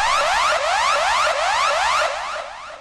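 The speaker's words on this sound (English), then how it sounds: "That sound is the cosmic beam out time up sound" Time-up sound from the Catchphrase game show, a loud cosmic beam-out effect of rapidly repeating rising electronic sweeps that pulse for a few seconds and then slowly fade, with no talking.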